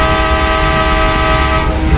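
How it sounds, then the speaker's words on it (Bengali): A video-game train sounds a long, sustained horn, loud and close, holding a steady chord for nearly the whole moment before trailing off as the train begins to move. "এইখানে কিন্তু আপনি চাইলে হর্ন দিতে পারবেন"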